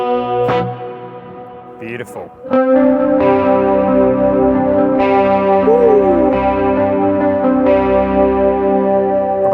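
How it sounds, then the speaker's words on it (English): Electric guitar played through a JHS 424 Gain Stage with reverb added: sustained, ringing chords and single notes bloom into a wide wash, with a brief spoken word near the start. "Let's now stick some reverb on."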